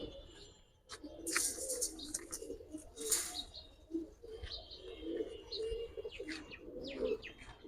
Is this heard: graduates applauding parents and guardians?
no